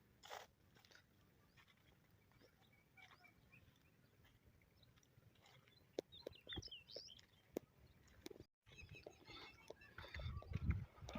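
Birds call and chirp outdoors in a village on a hot, windless morning near a brick kiln, faint and scattered, with crunching and rustling sounds close by.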